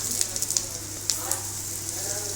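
Onions frying in oil in a pan for parotta salna give a steady close hiss and sizzle with a few sharp pops and crackles near the start, over a low constant hum.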